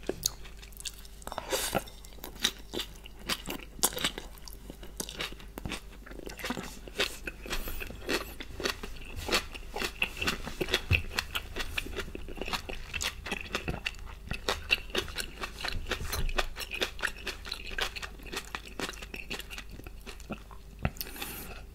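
Close, soft chewing of udon noodles alongside har gow dumplings and soybean sprouts gives a steady run of moist bites and squishy mastication, quiet and intimate with no talking.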